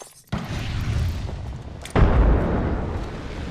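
Frag grenade explosions in the Apex Legends video game: a soft rumble, then two loud booming blasts close together, the second the heaviest, with no talking.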